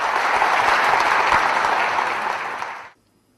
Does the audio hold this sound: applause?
yes